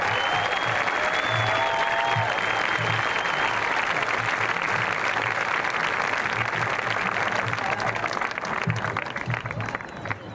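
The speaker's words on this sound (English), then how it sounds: "Let's give another round of applause to our valedictorians, salutatorians." Sustained applause fills a graduation ceremony for the Riverview class of 2025, a large crowd clapping loudly and evenly with faint cheers and whistles, tapering slightly at the end.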